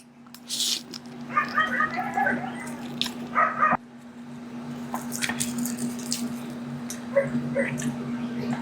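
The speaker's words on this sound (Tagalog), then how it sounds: "pasensya na sa mga aso guys na naririnig niyo yung mga asong ingay" Several dogs bark, yip and whimper in bursts close by, against a steady electrical hum, with a person talking in between.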